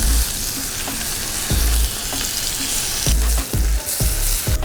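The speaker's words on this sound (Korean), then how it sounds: "불을 다시 센 불로 해주고 레몬을 살짝 익혀줄게요" Lemon slices sear in butter in a hot pan over high heat, giving a steady loud sizzle with sharper bursts of crackle and spatter as the slices are moved and stirred.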